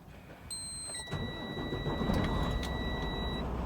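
An engine cranks and catches, then settles into a steady low idle rumble with a faint high electronic whine over it.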